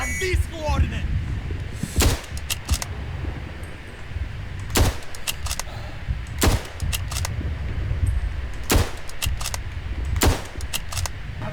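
In the video game Verdun, sharp booming blasts of mortar and cannon fire land at irregular intervals over a constant rumbling battle background, with scattered crackles of smaller gunfire.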